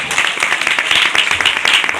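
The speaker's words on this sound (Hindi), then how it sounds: "जी इसके लिए ताली लगाओ" An audience at a lecture claps briefly, a dense burst of hand claps that stays loud and close for about two seconds.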